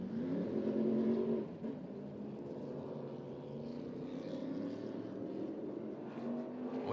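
SMART Modified race car lapping Tri-County Speedway, a steady engine drone with a rising pitch early that then settles into a sustained hum, heard at moderate distance without voices.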